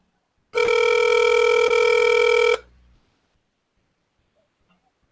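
Telephone ringback tone on an outgoing call, one steady loud electronic ring lasting about two seconds, then silence with no talking.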